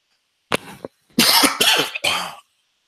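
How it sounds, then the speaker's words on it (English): A person coughs several times in short bursts: one brief cough, a pause, then a rough run of two or three louder coughs close up, with silence between. "I had to cough and then sip on some warm water."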